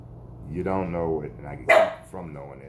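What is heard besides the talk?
dog barking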